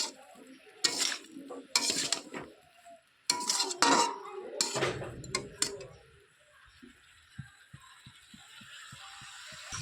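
Ground spices, turmeric, cumin and coriander powder, being stirred and sautéed in a pan with a spoon, heard as loud scraping and clattering bursts that give way to a run of light, evenly spaced taps, with no talking.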